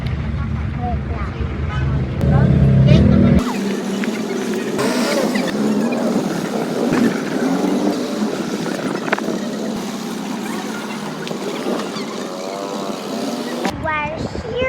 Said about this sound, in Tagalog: Nandito na kami sa jeep